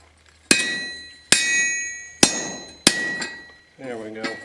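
A hammer strikes a chisel being driven through hot steel, four sharp ringing metallic blows at an uneven pace with short resonant decays, followed by a brief low sound at the end.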